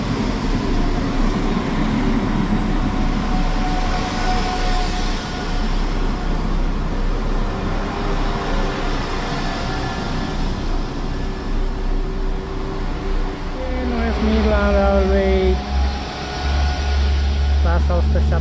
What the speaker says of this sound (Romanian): Clasa 172 mergând către Worcester, Forgate Street.